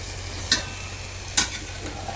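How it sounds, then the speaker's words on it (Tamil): Mutton pieces tipped onto well-sautéed onions in a pan, giving a steady low sizzle with two sharp stirring scrapes, close and fairly quiet, no voices. "வதங்கிச்சா நல்லா வதங்கியாச்சு இப்போ வேக வச்சுருக்கேன் கறியை போட்டுப்போம்"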